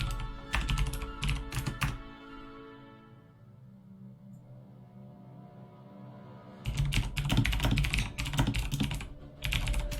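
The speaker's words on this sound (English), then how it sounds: "pardon for all the clicking that you can hear in the background" Rapid clicks of computer keyboard typing come in close bursts, stopping for a few seconds of near quiet before resuming in quick flurries.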